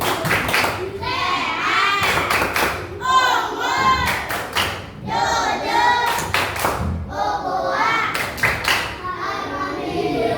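A group, likely children, performs the tepuk sujud clapping chant, singing in unison punctuated by sharp bursts of sharp rhythmic clapping, close and lively, with the chant and claps alternating throughout.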